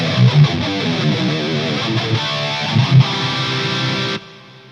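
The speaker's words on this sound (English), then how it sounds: "And then a flanger." Electric guitar played through a Line 6 Helix with flanger and reverb on a brutal metal preset, sweeping distorted chords and low riffs ringing loud and alone before cutting off sharply near the end.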